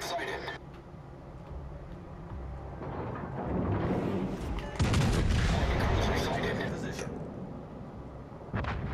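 Heavy naval gunfire from the battleship Tirpitz in World of Warships, with deep booming salvos and rumbling blasts building to a loud peak midway, then lingering rumble and another burst near the end.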